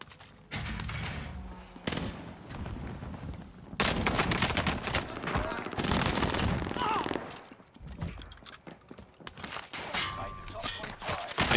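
Gunfire in Call of Duty Vanguard Warzone on Rebirth Island, including an Owen Gun: dense, loud bursts of shots that come and go across the stretch, with game sounds and some speech mixed in.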